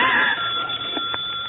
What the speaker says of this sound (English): The phone, Matilda.